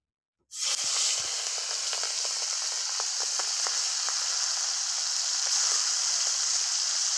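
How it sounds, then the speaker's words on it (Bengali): Prawns drop into hot oil after a moment of silence and burst into a loud, continuous sizzle with scattered pops and crackles that holds steady throughout. "একই তেলে এবার চিংড়ি মাছগুলো ভেজে নেব।"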